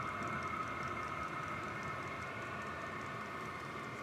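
A steady, jet-like roar with a constant hum from a DIY diesel heater in a shop runs unbroken throughout, fairly close and even in level.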